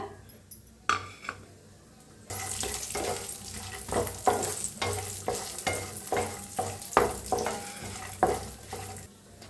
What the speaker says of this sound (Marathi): काजू बदाम घेतलेला आहे ते आता भाजून घेऊया आपण तुपात